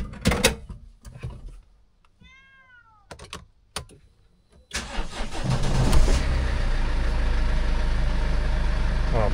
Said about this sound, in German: ob das Auto noch anspringt.